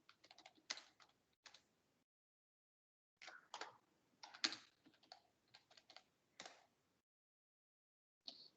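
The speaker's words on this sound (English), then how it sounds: "I'm typing very fast, so there could be spelling mistakes." Fast typing on a computer keyboard while writing a C++ program, in quick clattering bursts separated by short pauses, close and fairly quiet with no talking.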